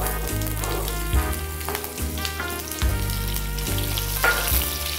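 Onions sizzling in hot oil with mustard seeds already popped, a steady loud frying hiss broken by a few louder crackles and shifts as the onions are tossed in, no talking.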